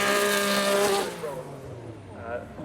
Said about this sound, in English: This is a big batch of supercars.